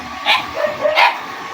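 Two dogs give a pair of sharp, startled barks, close by, about 0.7 seconds apart, with a quiet background.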